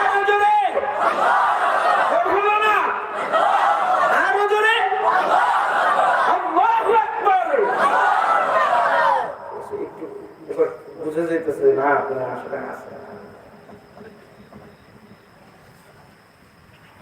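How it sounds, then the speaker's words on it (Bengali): A large crowd at a Sylheti Islamic sermon gathering loudly chants the takbir in unison, full-throated and sustained for several seconds, then drops away into scattered voices and a quieter murmur. "আরো জোরে বলেন আল্লাহু আকবার"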